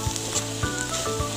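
Banana flower and spices sizzle in hot oil in a pan for an Assamese-style pickle, with a steady fry broken by three soft, evenly spaced scraping thumps of stirring.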